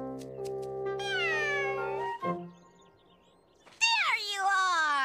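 A cartoon cat meows twice, long drawn-out cries close by, separated by a short pause, with a brief higher squeak after the first.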